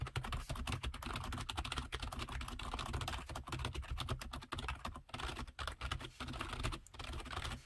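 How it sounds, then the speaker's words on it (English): Keys pressed on an unplugged Corsair K55 RGB non-mechanical membrane gaming keyboard, a quiet, rapid run of soft muted taps in fast irregular rhythm, close and alone. "so we're going to do a little typing sound test to see what this sounds like"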